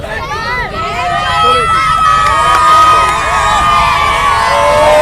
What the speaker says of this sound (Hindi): यहाँ बच्चे देखिए सिर्फ चिल्ला रहे हैं